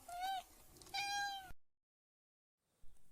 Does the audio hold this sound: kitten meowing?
yes